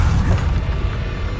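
A Bombarda spell blast in Hogwarts Legacy goes off as a loud, close, low booming burst with a rumbling tail and no talking over it.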